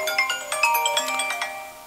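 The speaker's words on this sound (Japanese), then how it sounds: "突然の電話で失礼しました。" A phone ringtone plays a bright, chiming melody of repeated tonal notes, close and clear with no voices over it.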